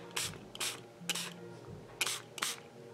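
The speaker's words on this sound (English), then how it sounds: "Little spray bottle." Several short, breathy spritzes from a small spray bottle onto an acrylic painting, spaced irregularly, close up and fairly quiet.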